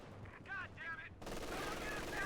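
In the Company of Heroes 2 strategy game, a voice talks briefly before a sudden sustained burst of machine gun fire, dense and rattling, continuing to the end of the short moment.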